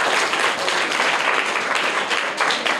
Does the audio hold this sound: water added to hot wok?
no